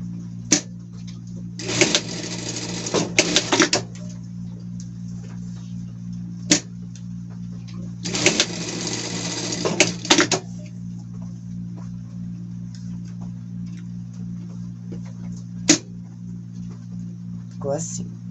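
A sewing machine runs in two short bursts of rapid stitching, a few seconds apart, as it sews a fabric toy's ear. Between the bursts come quiet clicks and a low steady hum.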